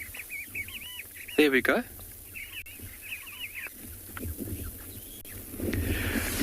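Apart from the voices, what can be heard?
calls of Makwa sandgrouse flying overhead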